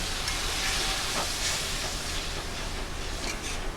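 Water poured into hot, oil-glossed masala for an egg curry sets off a loud, steady steam hiss that continues throughout.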